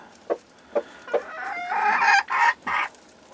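Old English game hens sharing a nest, giving a few soft separate clucks and then a louder drawn-out run of agitated cackling calls, close by in a quiet setting.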